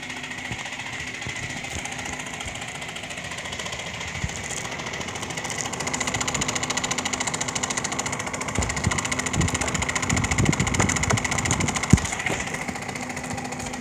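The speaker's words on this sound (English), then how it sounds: "let me shut off the compressor" A homemade air conditioner compressor running with its cover on, a steady mechanical rumble and hum with a rapid rattling pulse, growing slightly louder partway through and holding on.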